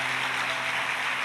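A church congregation claps together in a brief, even burst of applause, full and continuous with no voices over it.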